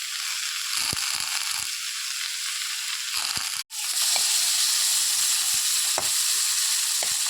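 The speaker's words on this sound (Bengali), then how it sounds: "চিংড়ি মাছগুলো ভেজে নিচ্ছি" Prawns fry in a pan for a Bengali pointed gourd and poppy seed dish, giving a loud, continuous close sizzle with occasional clicks and spatula taps and a brief dropout midway, and no talk.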